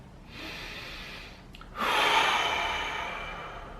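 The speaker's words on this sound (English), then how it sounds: "then just breathe deeply" Deep, slow breathing during a wrist stretch, a soft airy inhale followed by a longer, stronger exhale, close and quiet with no talking.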